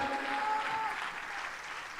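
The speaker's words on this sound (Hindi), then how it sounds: "एक ज़ोरदार ताली हो जाए" Applause from a church worship audience, a steady wash of many hands clapping throughout, with a thin whistle-like tone early on.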